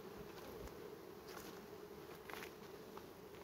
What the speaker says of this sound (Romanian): Aceste sunt albine uzate probabil de la alte colonii sau de la colonia respectivă